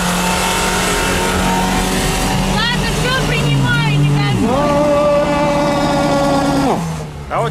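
An automatic 4x4 car drives on snow, its engine revving up and down in rising and falling sweeps, close and steady, with voices talking over it.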